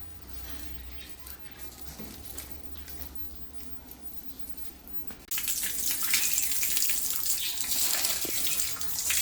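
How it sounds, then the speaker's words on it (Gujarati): Water splashes onto a dusty verandah floor to wash it: a faint trickle first, then a sudden loud, continuous gush of pouring and spattering water across the surface. "પાણી નાખી દઈએ ને તો બધું ઉડી ધોવાઈ જાય"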